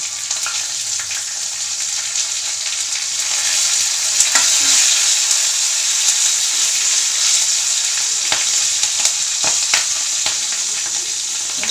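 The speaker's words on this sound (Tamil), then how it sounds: "இதுவும் ரெண்டு பச்சை மிளகா போட்டுக்கலாம்" Mustard seeds and green chillies frying in hot oil in a pan, a loud continuous crackling sizzle with scattered sharp pops and stirring scrapes, growing slightly louder midway.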